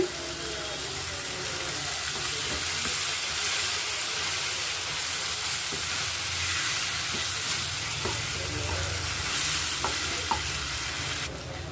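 Tomato chutney cooks in a pan with a dense, continuous hiss and bubbling, while occasional stirs add light scrapes and clinks throughout.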